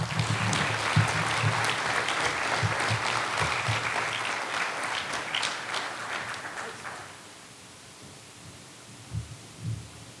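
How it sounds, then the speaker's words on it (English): An audience at a Rotary World Affairs Conference gives a speaker a round of applause, a thick, sustained clapping that fades out after about seven seconds, leaving low room noise and a few soft thumps. "Let's give him a big, big round of applause."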